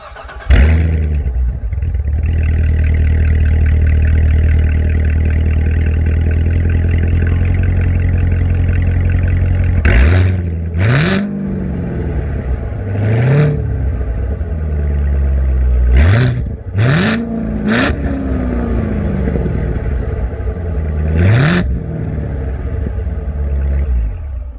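A 2016 Chevy Corvette Z06's exhaust rumbles at a loud steady idle, then barks through several sharp revs that rise and fall back, close by with no talking.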